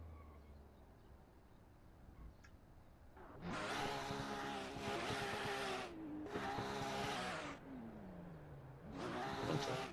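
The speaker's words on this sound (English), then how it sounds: "I had the engine sound" Racing video game car engines rev and roar in loud bursts, with rising and falling pitch sweeps and a tire-squeal edge, separated by short lulls over a faint background hum.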